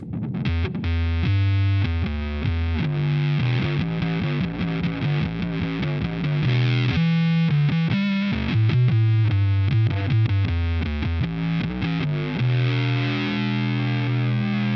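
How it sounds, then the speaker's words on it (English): Thick fuzzed-out octave bass riff from a Boss OC-5 octave pedal with a Big Muff fuzz, blooming, saturated low end, sustained notes sliding between pitches, loud and continuous without speech. "the Big Muff kind of brings out this really blooming low end."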